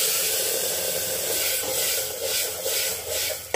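A freshly ground paste of onion, tomato and garlic sizzles steadily in a hot pan with spices, a close, continuous frying hiss with light stirring throughout.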